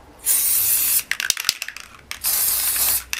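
Two long hissing bursts from a Créalère spray glue can, with a short burst of clicking and rattling between them.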